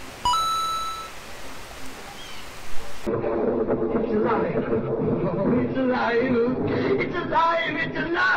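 Rain falls on a Ford Transit van, heard as a steady patter that starts abruptly partway through and continues as a dense, close wash. A brief electronic tone comes before it, and voices sound faintly underneath.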